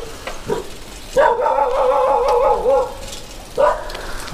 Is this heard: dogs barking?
yes